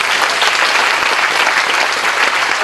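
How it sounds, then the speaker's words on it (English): Dense, steady applause from a large crowd at a groundbreaking ceremony for a new medical school, loud and continuous throughout with no voices standing out. "let's give them a big round of applause"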